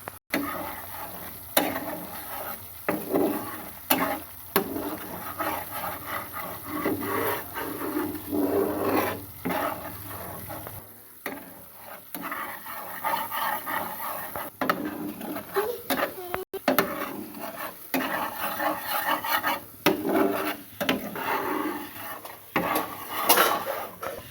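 Milk cream is stirred without a break in a pan as it cooks down into ghee, giving repeated scraping, clattering and knocking of a spoon against the metal pot with a few short pauses.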